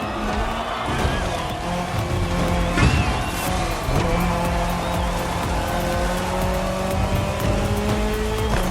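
Race cars roar through a head-to-head Red Bull Speed Clash in The Crew Motorfest, one of them a rally car, with a loud, steady engine drone, tyre squeal and brief sweeping passes over about nine seconds.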